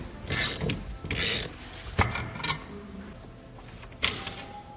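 Metallic ratcheting clicks, clunks and scraping as a Corvette Stingray telescoping steering column is taken apart, in irregular bursts of a few sharp knocks and rattles, close up with no talking.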